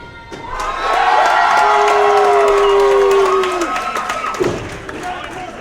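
Wrestling crowd at an indie show cheering loudly and steadily for a wrestler, a sustained roar with shouts, fading after a few seconds, with commentators talking over it.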